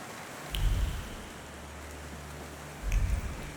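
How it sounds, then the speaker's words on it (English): Steady rain falls in The Thaumaturge, a soft continuous hiss, with two deep low thuds or rumbles breaking in at the start and near the end. "And now it starts to rain."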